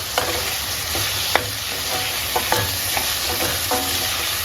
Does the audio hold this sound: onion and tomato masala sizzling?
yes